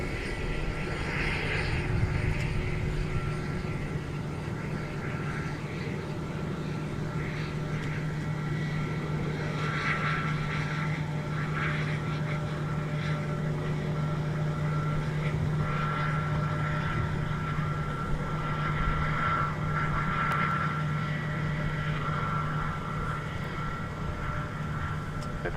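United Airbus A320 at Minneapolis–St. Paul airport, a continuous steady engine roar with a sustained low hum, heard at moderate distance among airport ambience.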